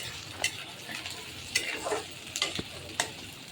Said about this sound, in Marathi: कांदा परतून घ्यायचा कांदा पण असा जास्त लालसर करायचा नाही